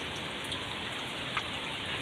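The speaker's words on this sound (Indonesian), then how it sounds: "Enggak terlalu hujannya dia, udah mulai berhenti hujannya teh." Light rain patters steadily on a surface as a shower eases off, a continuous soft hiss with one or two faint drop ticks and no voices.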